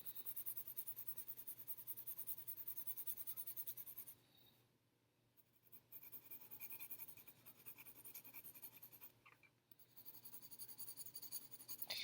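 A graphite pencil shades lightly on paper, making a faint, continuous soft scratching in quiet, rhythmic strokes, with a couple of brief pauses between passes.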